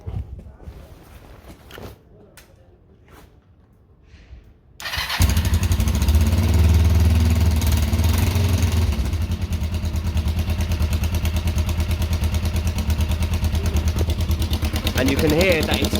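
A Kawasaki ER5 motorcycle with an unsealed, leaking exhaust starts after a few quiet seconds with faint handling noises, then runs loud and close at a steady, throbbing idle until the end.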